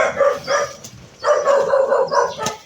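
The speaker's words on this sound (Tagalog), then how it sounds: "May aso." A dog barks at a house in a rural Filipino neighborhood, giving a series of loud, close, sharp barks in two quick bursts with short pauses between them.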